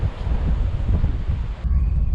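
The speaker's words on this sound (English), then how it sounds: "It is incredibly windy." Gusty wind buffets the microphone with loud low rumbling while fishing in autumn, briefly easing before surging again, with no talking.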